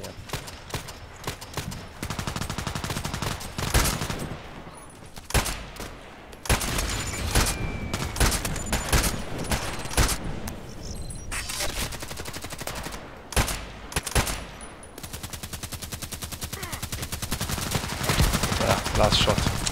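Sniper rifle and other gunfire in a Battlefield match, with sharp cracks, rapid bursts and repeated shots across a long stretch, some near and loud, others in quick volleys.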